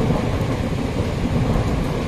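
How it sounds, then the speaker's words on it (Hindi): Thunder rumbles continuously through steady heavy rain during a cold mountain storm in an Uttarakhand village, a loud dense roar with no talk. "बहुत जोर से आवाज आई थी।"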